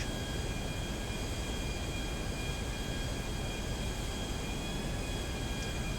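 Continuous roaring jet engine drone with a steady high whine, unchanging and loud, from a jet aircraft in GTA V, no talk.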